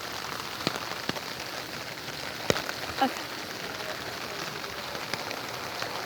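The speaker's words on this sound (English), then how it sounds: "I can barely hear you over the rain." Steady rain pours onto pavement and a sidewalk outdoors in a constant, even hiss, with occasional sharp taps and a brief spoken word.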